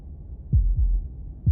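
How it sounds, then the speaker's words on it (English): Heartbeat in the video game Slay the Princess: three deep, muffled thumps spaced about a quarter to two-thirds of a second apart, low and close over a quiet hum, with no voices. "That was the sound of a heartbeat"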